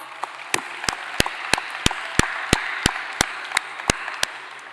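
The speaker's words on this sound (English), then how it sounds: "Let's give it up for Hector Tundidor Jr. and the Orange Bowl Committee. A round of applause." At the Miami Herald Silver Knight Awards ceremony, an audience applauds the Orange Bowl Committee with a soft continuous wash of clapping. Sharp, regular claps from one nearby pair of hands ring out above it at a steady beat.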